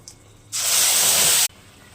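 Cumin, dried red chillies and spice paste dropped into hot oil hiss and sizzle loudly in a single sharp burst of about one second, close up, with no talking.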